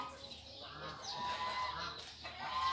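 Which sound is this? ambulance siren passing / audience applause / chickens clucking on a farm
chickens clucking on a farm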